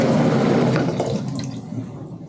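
Hot water pours steadily from a tap at a resin printing station, a loud, continuous splashing rush that softens slightly toward the end.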